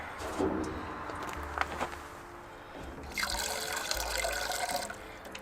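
Water is poured into a camping pot for coffee at a lakeside campsite, a soft trickling fill that swells into a steadier, brighter pour near the end, with no talk.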